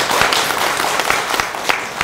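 Loud audience applause at a Buddhist temple gathering in Korea, with dense clapping from a crowd and a few sharper individual claps standing out over a brief, steady burst.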